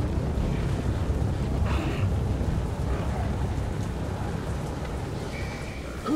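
A storm in the video game Metro Redux gives a continuous heavy roar of rain with deep rumbling thunder underneath, steady and loud throughout.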